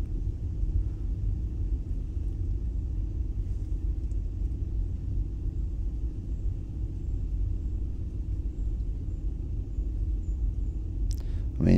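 A car rolls slowly along a quiet road in Guernsey, near Petit Bot Bay, giving a steady low engine and tyre rumble that holds constant, with a brief clatter at the very end.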